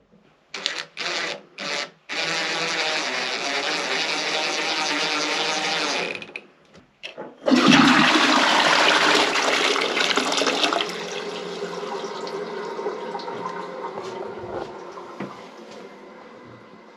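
Cold water surges through newly plumbed bathroom pipes with a loud, steady hiss and rush, broken by a few stuttering bursts before a stronger flow that gradually settles quieter.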